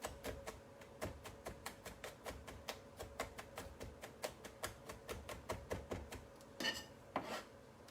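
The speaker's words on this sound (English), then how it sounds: "garlic I definitely like to finely chop" A knife finely chopping garlic on a board, a fast even run of crisp taps repeating about three times a second, close and fairly quiet, ending in a couple of longer scraping strokes.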